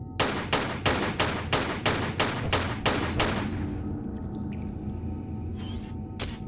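Pistol fire in the video game Tomb Raider: The Last Revelation: a rapid, evenly spaced run of about nine sharp shots, then a short lull before two more isolated shots near the end.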